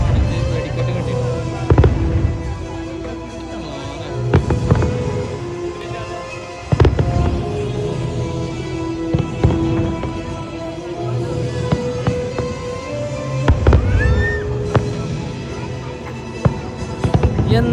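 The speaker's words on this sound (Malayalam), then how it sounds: "നമ്മൾക്ക് ഇതിൻ്റെ പ്രമാണിച്ച് വെടിക്കെട്ട് കിട്ടിയിട്ടുണ്ട്." A fireworks display at Global Village Dubai crackles and booms: repeated loud bursts and sharp bangs at irregular intervals, over a constant background of crowd noise.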